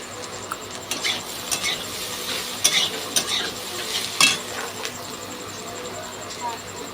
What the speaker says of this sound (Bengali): কাঁকরোল আর আলু একসাথে নাড়বো।